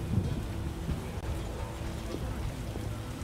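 Rain and thunder in a video game, with a constant hiss of rainfall and low rumbling thunder rolling underneath, steady and moderately loud throughout.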